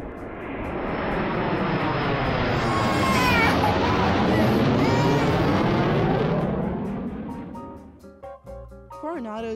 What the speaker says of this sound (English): sometimes you're on the beach and the planes fly right overhead.